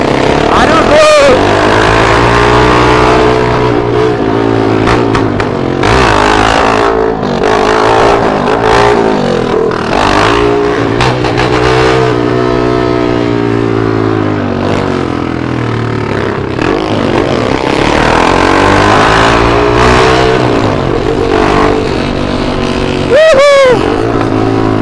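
A Volkswagen Gol engine revs hard and repeatedly, loud and close, its pitch sweeping up and down in long pulls across nearly half a minute, with voices and other passing engines mixed in.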